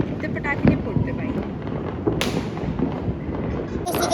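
Diwali firecrackers bursting around a residential housing society, a mix of sharp cracks and pops near and far, with a voice talking over them.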